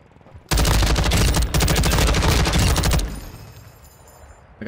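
Rapid sustained automatic gunfire from a light machine gun in Call of Duty Modern Warfare II, loud and close, a dense continuous burst of about two and a half seconds with a short break, then fading.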